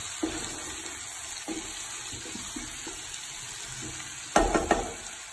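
Onions frying in a pan with green chili and curry leaves, a low steady sizzle broken by a few stirring scrapes, with a louder burst of clatter near the end; no voices.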